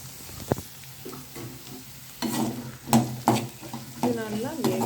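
Finely chopped carrot and beans sautéing in a pan for samba rava upma, with soft sizzling and stirring scrapes growing louder partway through, close and continuous.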